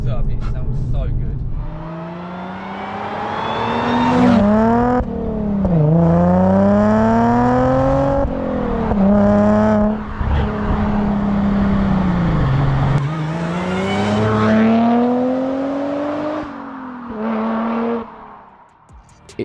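An Audi S4 with an aftermarket exhaust revs repeatedly, each blip climbing into a throaty open-valve roar then falling away, loud and near with a rough rumbling idle in between.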